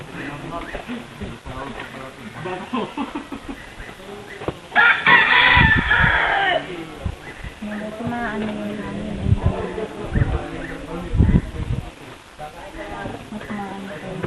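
In Lucena, Philippines, a rooster crows loudly partway through, amid clucking chickens and people talking nearby throughout.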